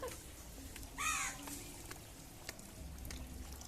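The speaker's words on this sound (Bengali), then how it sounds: "দেখো কাকটাও বললো হ্যাঁ, আমাদের খেতে দিচ্ছ না কেন এখনো?" A crow at a Darjeeling picnic spot gives a single loud, hoarse caw, standing out clearly against a quiet, breezy outdoor background.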